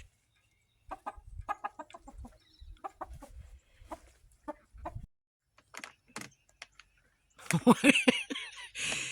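Scattered short clucks from several chickens, including pullets and roosters, come in uneven bursts, with a louder, busier flurry of squawking near the end.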